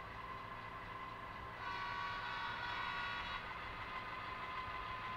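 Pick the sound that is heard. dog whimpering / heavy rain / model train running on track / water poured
model train running on track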